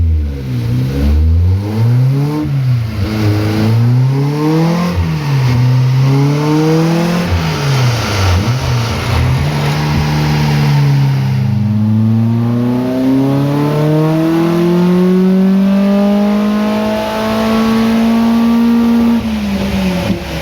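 A Ford 2.5 Duratec engine with phase 2 cams, a ported head and tuned mapping in an MK Indy is blipped through several quick rev rises and falls, then held in a long, steady climb, loud and close with no voices.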